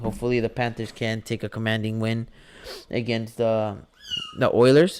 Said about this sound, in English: Again, I apologize for the kitten noise.